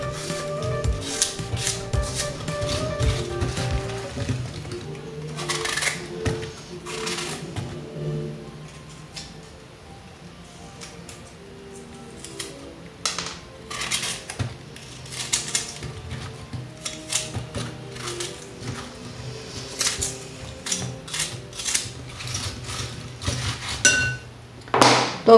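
Apples being cut for a recipe, heard as a long run of quick knife taps and chops on a board, some bursts denser than others, over soft background music.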